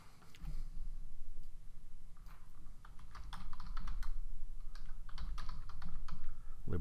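Someone types a file name on a computer keyboard: quick, irregular bursts of close key clicks with short pauses, over a faint background hum.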